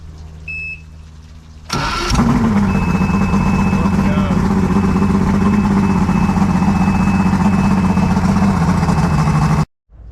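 A previously non-running outboard boat motor cranks over and fires up about two seconds in, then settles into a loud, steady running drone close by. A faint electronic beep sounds just before the start, and the engine cuts off abruptly near the end.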